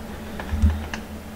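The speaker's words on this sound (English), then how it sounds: "I can hit my camera with my helmet" A few soft, hollow taps of a full-face motorcycle helmet knocking against a GoPro camera, close but quiet over a steady low hum.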